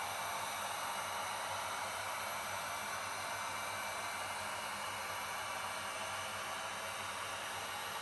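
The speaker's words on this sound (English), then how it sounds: "Gonna take my heat gun." Heat gun blowing hot air from a distance onto a custom aftermarket wrap on a Pro Boat Sonicwake RC boat, a steady, faint whooshing hum with an even whine, unbroken throughout and without any voice.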